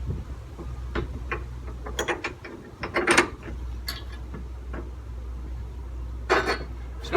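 A ratchet tightens a bolt on a bike box carrier, giving short bursts of metallic clicking and clinking. These sit over a steady low hum and are heard close up, with no talking.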